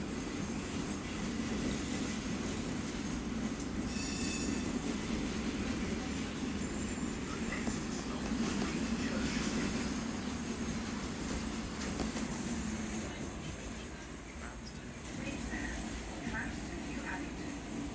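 A London tram running on rails between Beckenham Junction and Wimbledon gives a steady onboard rumble with wheel and track noise, with a faint squeal in spots, under constant muffled cabin noise and chatter.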